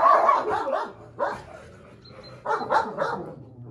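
A dog barks and yips in several short bursts, close and fairly loud, with whimpering tones between the barks.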